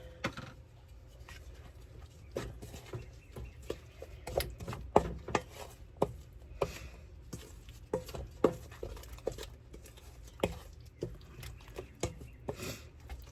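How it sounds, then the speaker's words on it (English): Taco seasoning being stirred into a hotdish mixture, heard as soft, irregular scraping and tapping of a utensil against the pan, fairly quiet and close, with no talking. "now it calls for a package of taco seasoning. So we're going to stir that in"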